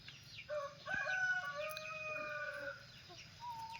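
Young F2 hybrid northern jungle fowl crow with a few drawn-out, clear calls close by, including a short overlapping second call, over a quiet background hum.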